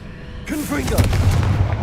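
A Confringo spell in the Hogwarts Legacy video game goes off as a booming blast with a rumbling tail, mixed with whooshing magical effects and a voice shouting over it.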